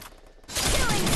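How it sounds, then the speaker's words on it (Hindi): Burst of gunfire in the mobile battle royale game Garena Free Fire Max, starting abruptly after a quiet moment and continuing as a loud, dense, sustained volley to the end. "वहाँ से मुझे फायरिंग की आवाज़ें आ रही हैं"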